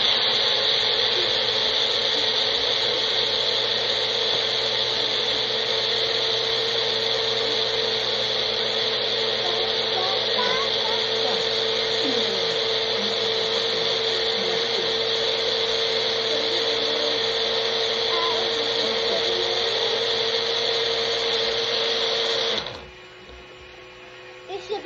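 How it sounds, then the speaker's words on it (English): A blender whirs steadily through a batch of juice, a loud, continuous motor drone close by that holds for over twenty seconds before cutting off abruptly, with no talking. "Now we blend this again"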